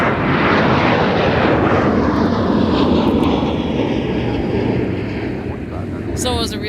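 A Sun Country airliner takes off from the runway at Minneapolis–Saint Paul airport. Its engines make a loud, close, broadband roar that holds steady and then eases slightly, with faint voices near the end.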